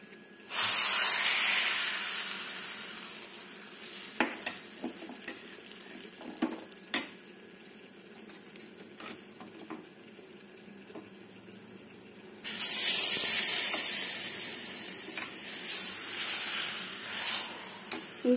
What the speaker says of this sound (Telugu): ఇప్పుడు పప్పులో కలిపేద్దామండి పోపుని